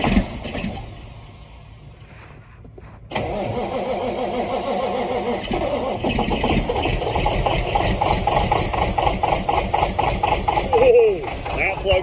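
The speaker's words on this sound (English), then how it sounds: "That's a cold start for you boys." A Kenworth truck engine, not plugged in, cold-starts in freezing January weather in Michigan. After a quiet opening it abruptly cranks and catches, then settles into a loud, rough, steady idle.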